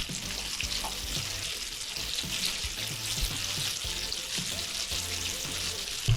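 Pieces of Atlantic stingray fry in hot oil until golden brown, a steady, dense sizzle and crackle running throughout, fairly quiet and with no talking.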